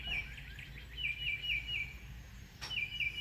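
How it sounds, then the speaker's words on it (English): Several birds sing outdoors in repeated short chirping phrases, fairly distant and steady, with a brief sharper call near the end over light background hiss; no one speaks. "the birds sound great today"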